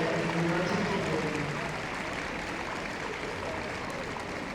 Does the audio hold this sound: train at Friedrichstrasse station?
no